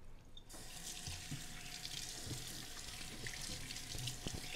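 Water runs steadily from a tap into a sink while a potted orchid soaks, a constant soft rushing hiss with small splashes and drips.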